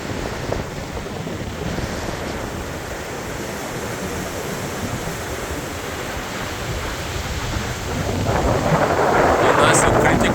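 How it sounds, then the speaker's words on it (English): Strong hurricane wind and heavy ocean surf at Hollywood Beach, Florida during Hurricane Ian, a loud continuous roar of wind buffeting the microphone over crashing waves, growing stronger near the end. "So very high wind, a lot of cloudy"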